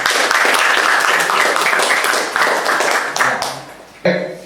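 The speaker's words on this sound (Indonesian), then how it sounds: "tepuk tangan buat Yeremia" A university class gives a round of applause for a student, dense clapping filling the room for several seconds before tapering off, with a few sharper claps near the end.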